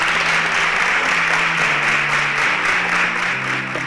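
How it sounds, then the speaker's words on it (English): An audience at a televised competition applauds in a continuous, fairly loud patter, with steady musical tones humming beneath the clapping throughout. "Please, a resounding applause for my partner"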